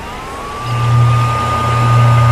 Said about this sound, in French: ce qui ressemble tellement au sifflement d'un train est créé par le vent soufflant à travers ce trou